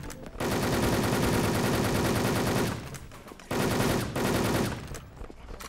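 Rapid automatic gunfire sprays from an SL weapon in a battlefield video game, two long loud bursts with a brief pause between them, then a short trailing burst at the end.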